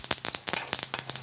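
Sesame seeds dry roasting in a pan for kozhukattai crackle and pop in quick, irregular bursts, close and fairly loud, with no voices over them.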